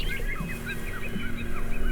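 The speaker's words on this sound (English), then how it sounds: "Do you hear the birds?" Birds call in a park, a steady series of short chirping and whistling notes repeating near and far over a soft outdoor background hum.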